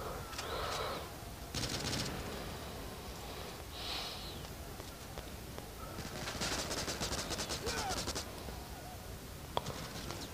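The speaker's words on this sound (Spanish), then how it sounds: "me ha disparado por detrás" Gunfire in the online shooter Modern Strike Online, with bursts of automatic shots at moderate distance amid steady game ambience and a few sharper isolated cracks.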